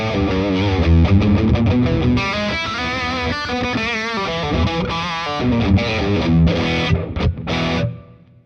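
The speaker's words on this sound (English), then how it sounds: "So with the triple rec on an analog distortion." Electric guitar through a Triple Rectifier amp with analog distortion pedal, heavy distortion, playing chords and sustained notes, loud and close, ending in a few choppy stabs.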